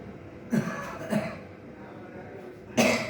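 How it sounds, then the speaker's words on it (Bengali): A patient coughs three times during an abdominal examination while turning the head to the left: two close, short coughs, then a pause and a third. The coughs stand over a quiet room hum. "বাম দিকে মুখ ঘুরিয়ে একটু কাশি দেন তো।"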